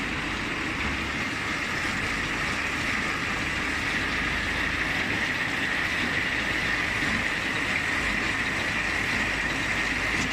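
A paper napkin serviette wrapping machine compressing stacks and pushing them into plastic film, giving off a continuous mechanical whirr and clatter with a steady hiss, even and unbroken throughout.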